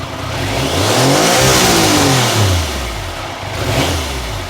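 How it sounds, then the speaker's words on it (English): Triumph Sprint 900 motorcycle engine with restricted air intake revving up and falling back, a loud close rising-and-falling engine note held for a couple of seconds, then a second smaller rev near the end. "it just can't get enough air through to give it the full rev"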